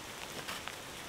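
Rain falls during a thunderstorm at a hammock campsite, a dense, even hiss of drops pattering on surfaces with no voices.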